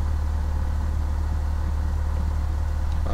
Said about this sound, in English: Throttle back a little bit just to slow down.